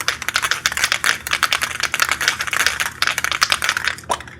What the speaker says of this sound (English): You definitely want to shake the can up.